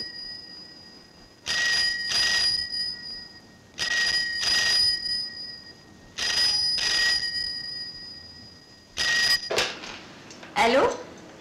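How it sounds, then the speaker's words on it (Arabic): An old-style telephone bell rings in repeated double bursts, four rings spaced about two seconds apart, loud and close, with a rougher clatter at the end. "ردي على التليفون"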